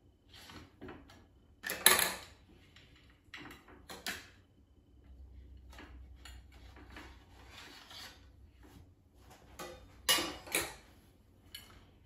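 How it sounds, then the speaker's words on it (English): The metal bottom of a springform pan is worked free from a loaf of air-fried zucchini bread, making quiet scraping and rubbing sounds with a few sharper metallic clinks and rasps. "remove the bottom of the spring pan"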